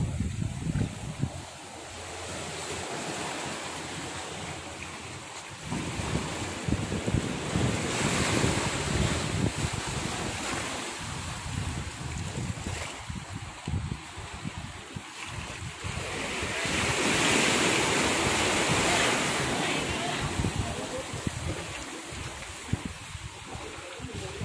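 Surf rolling onto Bãi Tranh beach in Nha Trang, a steady broadband wash of breaking waves with wind buffeting the microphone, swelling louder around the middle and later stretches, no voices.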